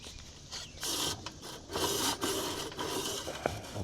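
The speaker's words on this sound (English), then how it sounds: "Go ahead and close the top grate about a quarter." A metal top vent being slid partly closed on a Weber kettle grill, with short rasping scrapes and rubbing bursts, close and moderately loud, with no talk.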